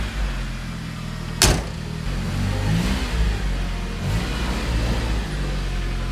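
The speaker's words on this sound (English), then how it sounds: "I reversed the car out" A Honda-engined Porsche idles and rumbles steadily nearby with a low throb, a sharp clunk early on, then gentle revving as it reverses out.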